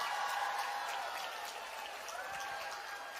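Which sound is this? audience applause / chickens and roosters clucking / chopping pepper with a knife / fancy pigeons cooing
audience applause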